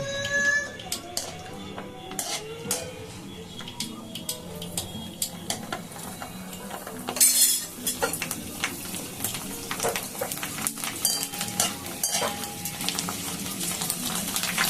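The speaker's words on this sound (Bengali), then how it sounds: "আমি যে রেডিমেড ফুচকা সেগুলোকে ভেজে নেব, একটুখানি এগুলোকে ভেজে নেব।" Ready-made fuchka puris deep frying in oil, a soft crackling sizzle with clinks of a utensil against the pan, and a voice talking over it at times.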